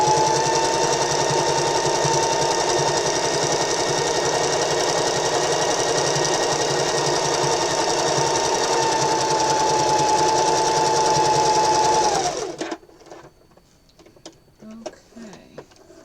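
A sewing machine stitches pants fabric in one long, steady, loud run with an even whirring buzz, then stops abruptly, leaving quiet handling sounds afterward.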